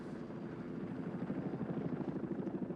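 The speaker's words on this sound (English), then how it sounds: "So here goes Nate, the helicopter pilot, into a kind of a thunderhead there." A helicopter flying in the film The Thing, its rotor thumping in a fast, steady rhythm under a broad engine rumble, fairly faint and growing slightly stronger.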